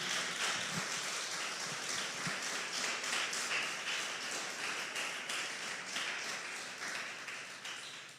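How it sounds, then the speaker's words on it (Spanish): A church congregation claps together during a worship service, producing a dense, steady wash of applause that continues without a break and fades slightly toward the end. "Demos una ofrenda de palmas al Señor."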